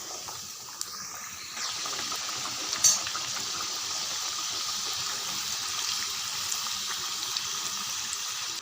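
Puri frying in hot oil, a steady fizzing hiss and bubbling that rises after a dough drop, continuous and moderately close with no talk.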